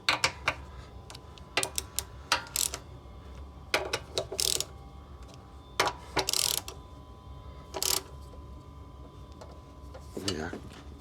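Bolts on a Honda GX140 engine being tightened with an inch-pound torque wrench, giving short, sharp metallic ratcheting clicks in scattered bursts over a low background hum.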